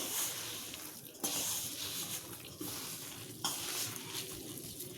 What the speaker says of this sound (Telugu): ఇట్లా అంతా కలిసేటట్టు కలుపుకోవాలి.